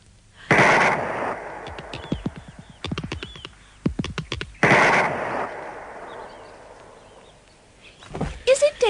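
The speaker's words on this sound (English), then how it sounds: "I'm going to shoot the top off it." A loud gunshot sound effect in a science fiction radio drama, fired at a plant in a garden; two sharp booming blasts ring out seconds apart, close and alone, with brief clattering sounds between them and at the end.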